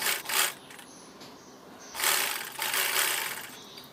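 A sewing machine stitches a pressed seam on cloth for a child's one-shoulder top and dhoti, with short whirring bursts of stitching between pauses, close and moderately loud, with no voice.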